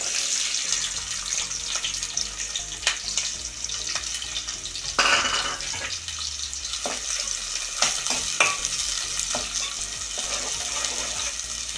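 Onions fry in a pan for a restaurant-style spinach chicken curry, with a constant loud sizzle broken by repeated clacks and scrapes of a spoon stirring them, heard close with no voices.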